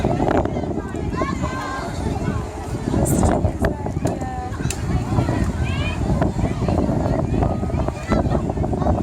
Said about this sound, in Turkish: Çok güneş var ama çok rüzgar da var.